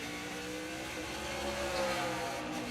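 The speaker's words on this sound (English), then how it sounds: "And now he's downshifting. This hard braking area right here into turn 1." 2009 NNS Zippo 200 race car at Watkins Glen, downshifting and braking hard into turn 1 in final practice, a loud engine note shifting pitch steadily over a couple of seconds with no talk.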